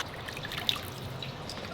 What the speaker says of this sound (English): I'm gonna pour some ice water on the hot